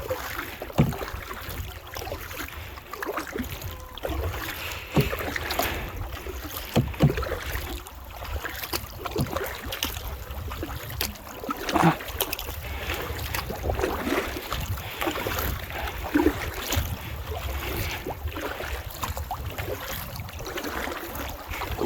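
A new kayak paddled on open water, with soft rhythmic paddle strokes and splashes under steady wind noise across the microphone, no voices.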